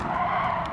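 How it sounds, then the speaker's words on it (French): A race car brakes hard in Gran Turismo 7 during a start-and-stop licence test, its tires letting out a steady, loud skid squeal for under a second. "On freine."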